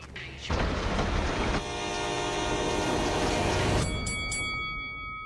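A train roars past on railroad tracks, loud and close for several seconds, with a horn-like tone riding over the rumble before it quickly drops away, leaving fading high whines and clanks.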